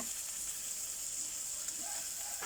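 Shrimp stir-frying with stink beans in a hot pan, a steady loud sizzle throughout with faint stirring scrapes and no talk.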